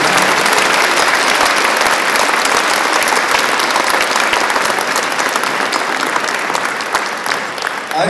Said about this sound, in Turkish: alkışlar onların için olsun.